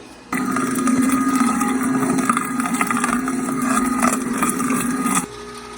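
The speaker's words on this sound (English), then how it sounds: "we are going to just turn on the juicer and get the remaining ingredients in there" A Nama J2 juicer runs steadily, giving a continuous motorized grinding drone with rough, sputtering texture that starts abruptly and cuts off after about five seconds.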